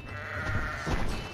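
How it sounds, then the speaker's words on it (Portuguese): A cartoon sheep bleats in the tower-defense video game Kingdom Rush, one short wavering bleat over a steady game soundtrack, close and moderately loud. "Matar essas ovelhas aqui."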